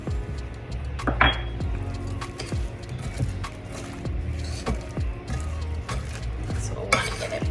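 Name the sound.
stirring panko breadcrumbs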